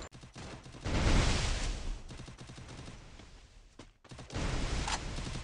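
Gunfire in the game Free Fire, loud bursts of rapid shots in two clusters separated by a brief quiet gap, close and harsh with no talk over them.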